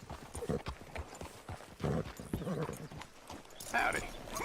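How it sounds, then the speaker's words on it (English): Horse hooves clip-clop on the ground in the Red Dead Redemption 2 video game, a few uneven hoofbeats near and moderately loud, mixed with speech throughout. "Hitch your horse up here."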